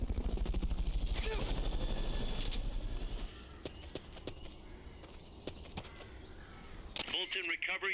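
Helicopter rotor thumping loudly and steadily in Metal Gear Solid: Peace Walker, fading after about three seconds into quieter game ambience broken by sharp clicks and bursts.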